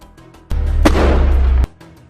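Gunfire from a Hamas fighter aimed at IDF soldiers near an Israeli tank: one loud, harsh burst lasting about a second, close and sudden, then cutting off sharply, with no voices.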